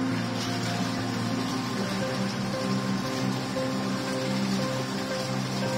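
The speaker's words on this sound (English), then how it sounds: "Start the hydro massage." Hydro massage water jets running in a baby spa bathtub, a steady close whooshing churn of water with a low pump hum throughout, no voices.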